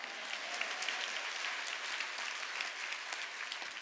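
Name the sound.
church congregation applauding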